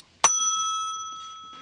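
A single bright bell strikes once with a sharp ding, then rings on with a clear sustained tone that slowly fades, heard alone with no talking.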